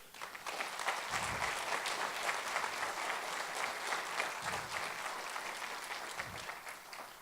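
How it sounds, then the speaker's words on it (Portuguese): Sustained applause from a large audience at a national congress hall, dense steady clapping filling the room for several seconds without speech. "a quem eu peço a nós uma grande salva de palmas"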